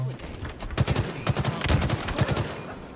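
Rapid automatic gunfire in the Halo Infinite video game, a dense burst of repeated shots in quick succession, loud and up close, fading briefly near the end.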